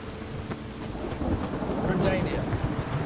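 Rain in The Witcher 3: Wild Hunt video game, pattering steadily with a low rumbling swell like distant thunder, fairly soft and continuous.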